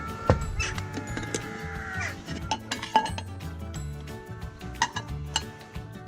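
Bread turned over in a pan on a Trangia mini stove, with sharp metallic clinks and scrapes of utensil on pan, a few scattered knocks close by over a low background hum.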